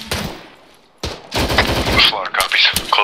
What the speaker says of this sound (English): That's close AK.